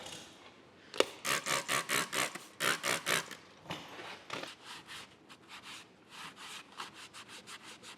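Crud is scrubbed off the motor plate of a Sellers 6G drill grinder in bursts of rapid back-and-forth strokes, with short pauses between them, close and fairly quiet, with no speech.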